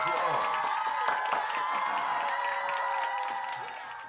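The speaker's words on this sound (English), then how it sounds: "Round of applause." Audience at a sit-down comedy show applauds and cheers, a dense, steady wash of claps, shouts and whoops that holds loud and close before easing off at the end.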